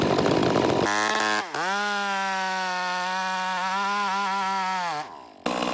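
A Stihl top-handle chainsaw fitted with 1/4 pitch chain cuts into oak, close and loud. It revs up sharply, holds a steady high whine for about four seconds, then drops off and briefly revs again.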